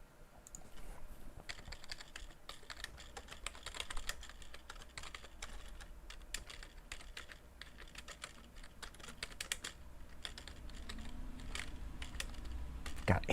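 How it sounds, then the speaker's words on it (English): Steady, rapid clatter of keys being typed on a membrane computer keyboard, continuous for the whole stretch with a few louder taps, recorded fairly close. "I hate this membrane keyboard."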